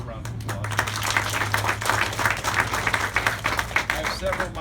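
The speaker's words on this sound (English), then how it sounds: "Give her a round of applause." Audience applause at a community board meeting, a steady round of clapping from a small crowd with some voices mixed in underneath.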